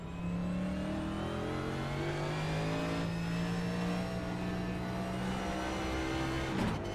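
A NASCAR race car engine in a racing video game holds a steady, droning high rev around the Homestead oval, with a sustained tone that shifts slightly in pitch, loud and continuous.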